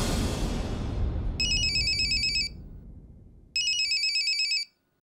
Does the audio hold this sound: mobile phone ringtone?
yes